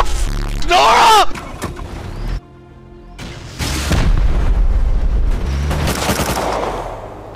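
Booming explosions and gunfire from rocket launchers during a raid in the game Rust, loud bursts separated by a short quieter gap, followed by sustained rumbling blasts with no speech.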